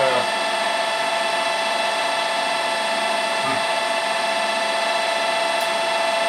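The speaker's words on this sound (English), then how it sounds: "I'm feeding it with the lathe screw handle" A metal lathe cuts steel, fed by its screw handle while turning an engine part, giving a steady mechanical whine with fine harmonic ringing and a faint tick near the start.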